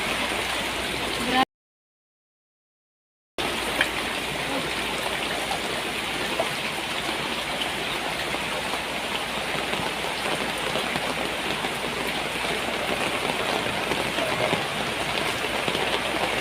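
Water rushes steadily and loudly along a road in a continuous wash of noise, broken once by a brief silence near the start.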